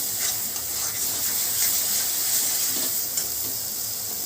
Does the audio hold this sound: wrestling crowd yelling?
no